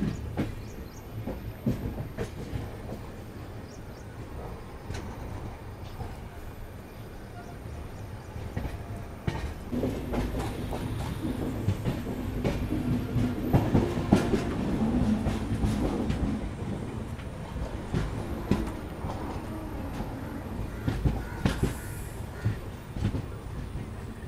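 Venkatadri SF Express passenger train running on rails between Kacheguda and Chittoor, a steady low rumble with scattered rail clicks and rattles, louder in the middle stretch, heard from inside the moving train.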